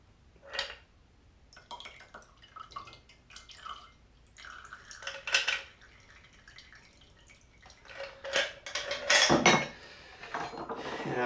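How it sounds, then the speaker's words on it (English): Liquid from a Sazerac cocktail is poured into a glass, with faint trickling and scattered clinks of glassware and bar tools, quiet and close, in a few short bursts. "just pour it right into that glass like that."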